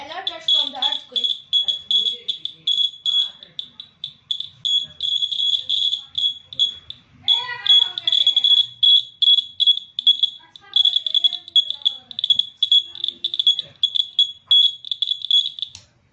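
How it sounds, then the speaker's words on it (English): A homemade earthquake alarm buzzer, set off by a moving piece of cardboard, sounds a loud, shrill, continuous beeping tone around 4 kHz that pulses rapidly throughout, with speech audible underneath. "the buzzer rang and it alerted us from the earthquake"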